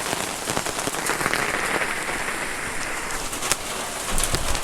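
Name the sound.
rain falling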